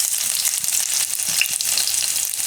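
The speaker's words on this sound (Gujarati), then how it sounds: "એમાં આપણે પહેલાં લસણ નાખીશું" Garlic fries in hot oil in a kadhai while making soupy pasta, giving a loud, steady, close sizzle with faint stirring and no voices.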